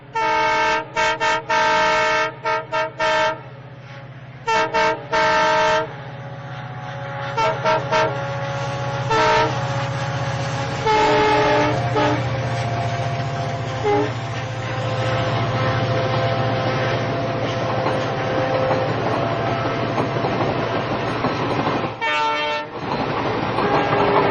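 A train runs on a railway line through green fields and paddy, its horn sounding in repeated loud toots before a long steady roll of wheels and carriages passes close by.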